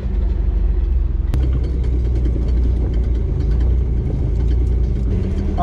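Off-road vehicle crawling up a hill at Calico without throttle, a steady low idling engine rumble, close and constant, with a brief sharp knock early on.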